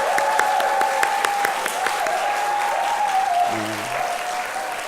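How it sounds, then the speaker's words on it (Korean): A church youth-service congregation claps together in applause, dense steady clapping throughout while a sustained musical tone plays underneath. "정말 박수 좀, 여러분 열아와 같이 박수 좀 해주세요"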